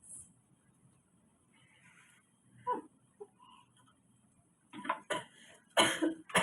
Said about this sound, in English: I see you're coughing, choking a little bit on that water